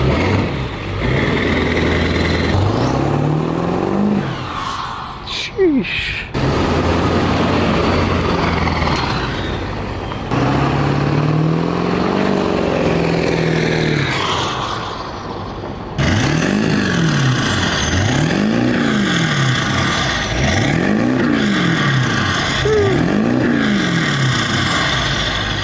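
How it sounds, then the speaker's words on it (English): A truck with a 4-inch turbo-back exhaust revs repeatedly. Loud, close engine bursts climb and fall in a steady run of rises, with a single short exclamation from a person partway through. "I'm going to show you guys the sound of the 4-inch exhaust."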